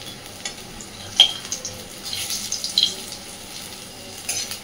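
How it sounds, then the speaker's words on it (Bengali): Palta leaf fritters frying in a pan, a gentle sizzle and bubbling with occasional sharper crackles and scrapes of a spatula, moderately close, no talking. "এইভাবে ছোট ছোট করে দিয়ে সমস্ত বড়াগুলোকে আগে ভেজে নেব।"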